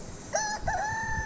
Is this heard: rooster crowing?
yes